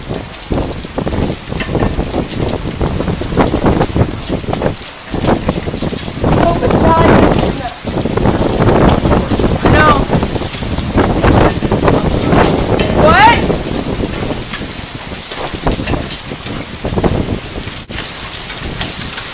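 A heavy rain and hail storm pours down continuously and loudly, with dense pattering impacts and gusts, while people speak and exclaim now and then.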